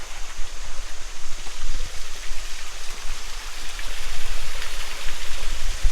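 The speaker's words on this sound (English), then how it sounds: "And the water actually flows in." Water streams steadily into a cave entrance near Copperas Falls in hiking country, a constant, fairly loud rushing hiss with no pauses and no voices.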